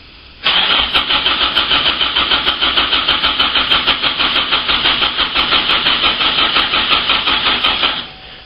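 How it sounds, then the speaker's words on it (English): A car engine cranks on its starter, powered by a lithium-ion battery, in a loud, fast, rhythmic churning that runs about seven and a half seconds without catching before cutting off. "that's now had a full 20 seconds cranking"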